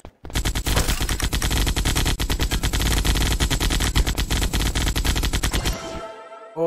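Rapid automatic gunfire from the Ev.io browser shooter game rattles on continuously and loudly for about six seconds, then cuts off abruptly, with no talk over it.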